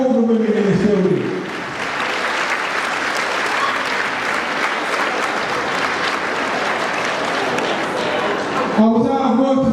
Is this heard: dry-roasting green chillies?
no